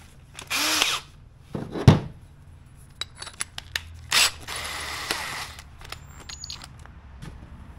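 A power tool rounds out a hole in a K&N Airaid 511-309 intake part for a Toyota Tacoma, giving short, sharp whirring bursts between pauses, with small clicks and handling clatter nearby.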